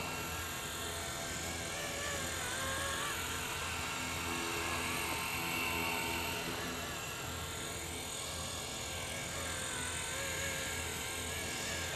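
A Blade 235 CP radio-controlled helicopter flies nearby with a steady, high-pitched electric motor whine and rotor buzz that holds almost constant in loudness throughout, without voices.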